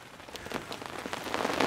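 Steady rain patters down on an outdoor campfire site in wet weather, a dense continuous hiss of drops that grows slightly heavier toward the end, with no voices.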